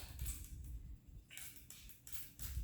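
Several short hissing spritzes of water from a spray bottle during watercolor painting, close and fairly quiet, separated by brief pauses.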